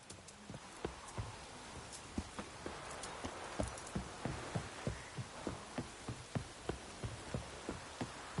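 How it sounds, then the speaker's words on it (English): Drizzling rain in The Witcher 3 makes a steady soft hiss, while regular thudding hoofbeats from a horse in the game clop along beneath it without a break. "Oh, it's drizzling."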